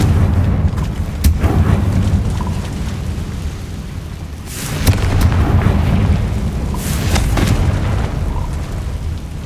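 Deep booming blasts from the Confringo fire spell in Hogwarts Legacy, several heavy explosive bursts with rumbling tails, one larger surge midway, over a continuous low game ambience.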